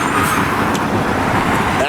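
Steady roar of cars passing on a Los Angeles city street, close and continuous with broadband road noise, with a voice talking faintly underneath.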